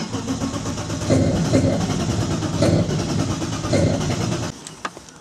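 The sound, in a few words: BMW E36 turbo car engine starting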